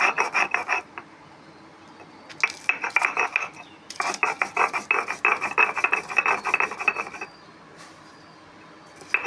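Spices being ground by hand on a grinding stone for a katla fish kalia, a close, steady back-and-forth rasping in bursts with short pauses between strokes.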